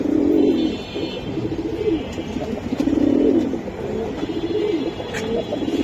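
Khaki military pigeons cooing close by in repeated low, throaty phrases, with a steady background hiss and faint chirps.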